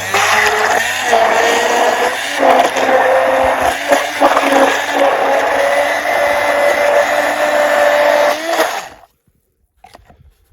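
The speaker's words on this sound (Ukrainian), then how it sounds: "Так, беремо міксер. І пробуємо колоти." An electric mixer whirs loudly and steadily as it whips a mixture, its motor pitch wavering slightly with the load for about eight seconds before it switches off and winds down to near silence.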